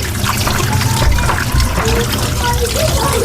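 Food being rinsed in a strainer under running water, a loud, steady close stream of trickling and splashing that continues throughout.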